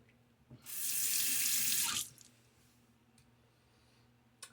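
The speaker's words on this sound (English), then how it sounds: "Like I do in the bowl, I'll have that water going in the bowl and you know, submerge it" Tap water runs into a bowl for washing a shaving brush, a bright steady splashing stream lasting under two seconds before shutting off, followed by faint drips and quiet room sound.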